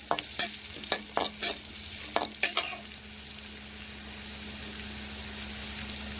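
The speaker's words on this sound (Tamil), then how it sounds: "ஒரு எட்டு பல் போட்டுருக்கிறேன் அதையும் ஒரு ரெண்டு வதக்கு வதக்கோங்க" Garlic cloves sauté in a pan for a tamarind curry, with several sharp spatula scrapes and stirs early on before a steady, low sizzle takes over, close and without speech.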